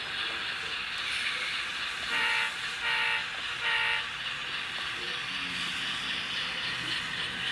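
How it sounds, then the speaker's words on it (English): An N scale GE C44-9W model locomotive under DCC control runs on model rails while spotting two CP red boxcars at Scott Paper in Everett. It gives a steady close mechanical hum and rumble, with three brief horn-like tones near the start. "With DCC, the operation of these N-scale locomotives is really smooth."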